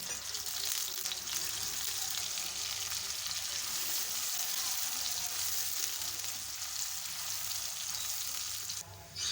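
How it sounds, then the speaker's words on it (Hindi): Sliced onions sizzle steadily in hot cooking oil in a home kitchen, a constant crackling hiss throughout with no talking. "प्याज को हम फ्राई करेंगे गोल्डन कलर आने तक।"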